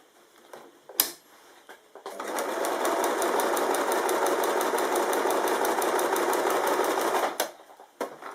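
A sewing machine stitches quilting lines across fabric in one sustained, rapid burst of several seconds, preceded by a single sharp click and ending abruptly, close and clear.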